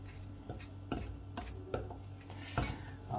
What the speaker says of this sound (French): on va commencer, c'est par couper nos fraises en petits morceaux